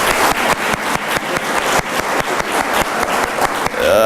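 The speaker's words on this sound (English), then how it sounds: "This is where you get applause." Clapping at a college foundation roast event, heard as a rhythmic series of sharp, evenly spaced claps, loud and close, repeating about every quarter second before a short squeak at the end.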